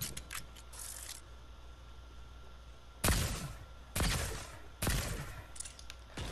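Weapon fire in a video game: three loud sharp bursts of shots at roughly one-second intervals, rising over a steady low background hum, with a brief faint rattle of fire early on.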